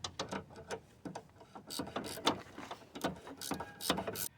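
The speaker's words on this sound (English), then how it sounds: "you should use a ratcheting wrench, and not this one, 17mm wrench" A 17mm ratcheting wrench working a bolt on a Toyota Corolla front end, with irregular bursts of sharp ratchet clicks, close and fairly loud, with pauses between strokes.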